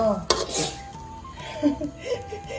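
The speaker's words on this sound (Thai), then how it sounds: "เสียงจาน" Dishes clink together nearby in a kitchen while cooking a Thai bamboo shoot and pork curry stir-fry, with a sharp knock at the start, followed by softer rattling and scraping of kitchenware.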